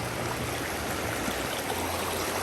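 A rural river on farmland flows in a steady, close rush of water, with continuous broadband churning and no voices.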